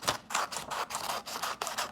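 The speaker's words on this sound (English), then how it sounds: "I'm cutting with scissors." Scissors cutting paper for a craft cut-out, a quick series of about eight crisp snips and scrapes in a rapid, uneven rhythm, close and clear with no talk.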